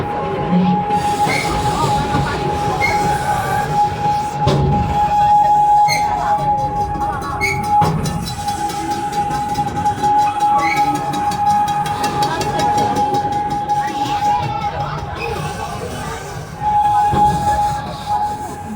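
An amusement park train on the Serengeti Railway at Busch Gardens rumbles steadily along rails with metallic squeals and clattering, a high steady whine running through most of it, with voices faintly underneath.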